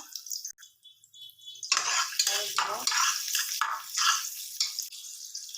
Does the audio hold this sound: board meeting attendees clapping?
no